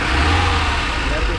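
A Ford Mustang engine runs close by in a brief, steady low rumble that stays at the same loud level throughout, with no clear start or rev.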